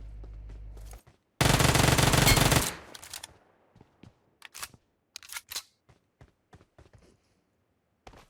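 A loud burst of rapid automatic gunfire from PUBG Mobile, where both players carry Uzis, lasts about a second, followed by scattered sharp single shots and clicks at varying distances.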